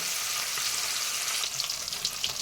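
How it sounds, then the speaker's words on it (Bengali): Paneer pieces frying in oil in a pan, a dense continuous sizzle close by that turns crackly and spattering in the last second, with no talk. "এইভাবে পনিরগুলোকে ভেজে নিচ্ছি"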